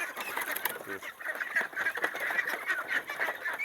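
A flock of egg-laying ducks quacking together on a farm, dense overlapping calls with a steady busy chatter, fairly close, no talking.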